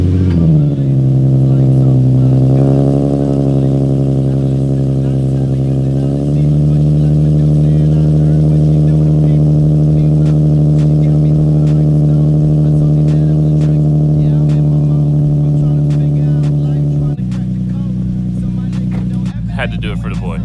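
A car engine cold starts at 5 a.m. It settles into a loud, steady idle that stays close and continuous, with the pitch dropping as it warms, then shifts near the end as clattering noises join it.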